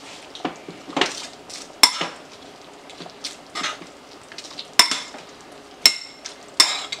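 Chana bateta being mixed with crushed Lay's chips in a bowl, giving irregular scraping and rustling stirs broken by several sharp clinks of a spoon against the dish.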